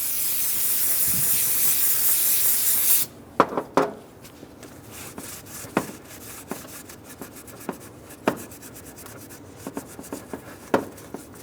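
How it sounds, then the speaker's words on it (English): Brake parts cleaner sprayed onto a valve cover from a 2003-2008 Honda Pilot: a loud continuous aerosol hiss for about three seconds, then quieter rubbing with a rag broken by sharp knocks and clicks. "Using brake parts cleaner and a rag, we're going to clean up inside of this cover."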